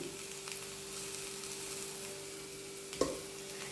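Tapioca pieces coated in chilli powder are stirred and mixed in a pan over a soft, steady sizzle, with light scraping and a single sharp knock near the end.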